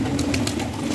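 Pet pigeons in a loft keep up a low, rolling coo, several birds overlapping in a steady murmur with brief brighter calls breaking through.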